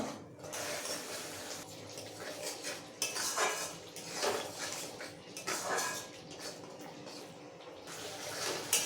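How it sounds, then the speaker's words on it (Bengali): Masala of turmeric, cumin and salt stirred in a metal pan for a vegetarian chhana kofta curry, with a spoon repeatedly scraping and clinking against the pan in uneven strokes and faint sizzling underneath. "এখন মশলাটা খুব ভালো করে কষিয়ে নেব।"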